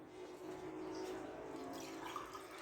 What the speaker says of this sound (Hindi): साथ हम यहाँ पर पानी ऐड करेंगे, पानी में यहाँ पे 2 गिलास ऐड करूँगी।